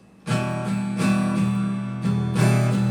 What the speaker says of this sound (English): Now let's check out the strumming pattern.